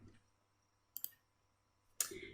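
Two separate computer mouse clicks, one near the one-second mark and a louder one about a second later, faint and close in a quiet room with a low steady hum.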